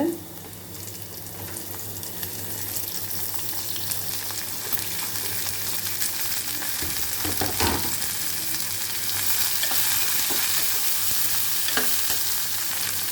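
Beans stir-fry in a pan for a Tamil-style poriyal, producing a dense, continuous sizzle with occasional utensil knocks, close and fairly loud with no voices.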